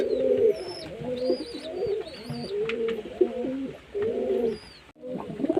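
Madras pigeons kept at home coo in repeated soft, throaty phrases, several birds close by with faint chirps above.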